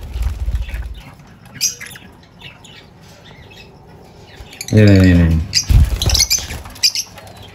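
Small caged birds in a mini aviary squawk and flutter, one loud harsh call standing out near the end among scattered chirps and wing rustles, with a person talking quietly at times.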